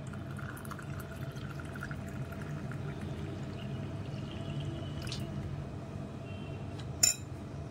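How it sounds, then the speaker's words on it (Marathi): Water pours steadily into instant fennel (badishep) sherbet ready-mix powder, a continuous close splashing fill with a single sharp glass clink near the end. "त्यात मी आता पाणी घालते।"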